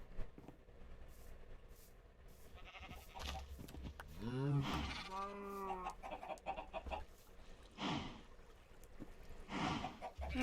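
Sheep bleating in the Minecraft video game in a village survival world, a few wavering bleats standing out around the middle, mixed with other farm animal calls, fairly quiet overall with occasional faint talk.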